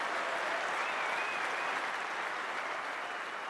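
Cricket crowd at an Ashes Test between Australia and England applauds, a steady, distant wash of clapping from the stands that holds evenly throughout.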